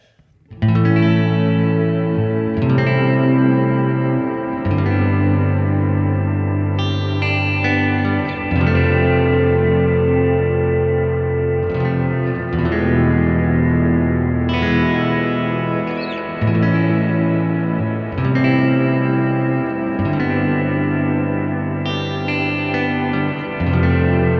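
Electric guitar chords through a reverb pedal in its 70s mode ring out drenched in heavy reverb and echo, each strum swelling into a long, washed-out ambient wash; loud and continuous.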